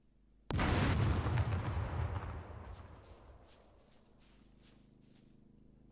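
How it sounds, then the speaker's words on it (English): A frag grenade detonates against a turret in the video game SCUM: one sudden loud blast that rolls into a long, fading rumble over several seconds. "just for the testing purposes, let's try frag grenade as well"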